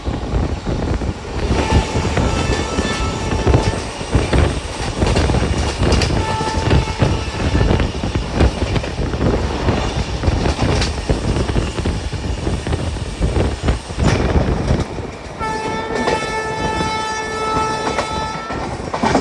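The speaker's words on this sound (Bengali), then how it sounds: "এখন সামনে থেকে আসছে জামালপুর হাওড়া এক্সপ্রেস" The Jamalpur Howrah Express rushes past with a steady loud roar and clatter of wheels, its horn sounding in long blasts near the start and again toward the end.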